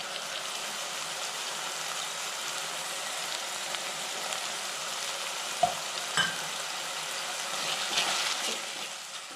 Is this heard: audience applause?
no